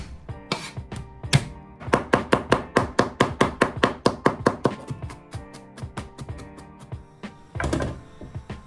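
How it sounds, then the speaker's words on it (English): Knife chopping green onions and garlic on a cutting board for a bacon garlic pasta, a steady run of crisp, close, rapid knocks with short pauses between bursts, no one talking. "Finely chopped 4 to 5 green onions and finely chopped 4 to 5 cloves of garlic."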